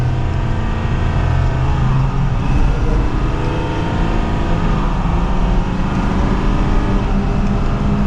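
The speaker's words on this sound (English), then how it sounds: "So now let's get the Megaraptor out on the road" A Ford F250 Megaraptor Lariat Ultimate pickup truck drives on the road in second gear with a steady, loud engine drone and road rumble, heard from inside the cab.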